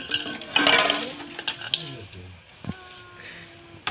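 Flour and rice powder stirred together in a bowl, heard as scraping and clinking of a utensil against the vessel with a few sharper knocks, under a voice speaking in the kitchen.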